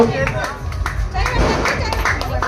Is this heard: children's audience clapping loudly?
yes